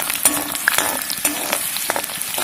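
Three chopped shallots frying in hot oil with dried red chillies for a star fruit pickle, a dense continuous sizzle and crackle heard up close, with a few stirring scrapes.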